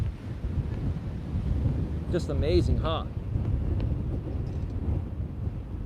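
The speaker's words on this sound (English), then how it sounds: "It's so windy that you see the water being pushed by the wind." Steady wind rushes and buffets the microphone beside open water while a person speaks briefly over it.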